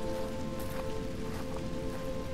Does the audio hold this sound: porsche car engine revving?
no